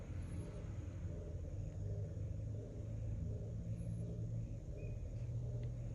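A heat gun warms glue on an ornament for a jewelry box ring bearer, giving a steady, close, whooshing roar that holds unbroken for the whole stretch.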